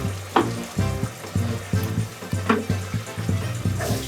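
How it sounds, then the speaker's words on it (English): Tomatoes sizzle and fry in a pan for a potato and peas curry base while being broken down, with a rhythmic series of soft thuds and scrapes from stirring over a constant close, bubbling crackle. "Just breaking down the tomatoes."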